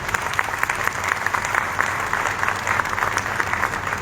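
Strong, sustained applause from a large audience at a teachers' association gathering, dense clapping filling the whole stretch at a steady, loud level with no talk over it.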